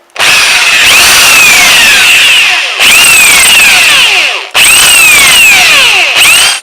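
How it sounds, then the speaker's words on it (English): A power drill with an 8mm bit bores holes in tough metal while salvaging panniers, loud whining bursts with falling pitch sweeps, three drilling passes separated by brief pauses, close and alone. "I'm using an 8mm drill bit."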